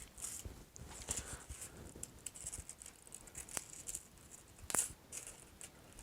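Scissors snip fringe into creased cupcake paper liners, a run of irregular close crisp cuts and rustles, some louder snips standing out against a quiet background.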